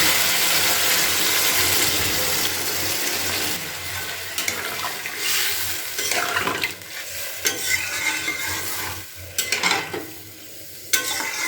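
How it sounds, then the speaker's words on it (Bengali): Water poured into frying spice paste for a broccoli paneer dalna, a loud hissing rush that settles into a bubbling sizzle with scraping stirs and spatula knocks. "এবার আমি পরিমাণ মতো একটু জল দিয়ে দিচ্ছি"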